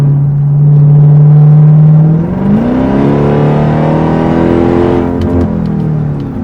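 A Dodge Durango Hellcat engine under light throttle, a loud close drone holding steady, then climbing in pitch as the SUV accelerates and revs, with no voices.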